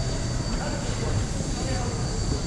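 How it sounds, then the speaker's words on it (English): A large locomotive sits at a railroad museum ready to depart, giving off a steady, dense rumble and hiss of idling rail equipment that stays fairly loud and continuous throughout, with a faint high whine above it. "He's ready to depart. Got this big train."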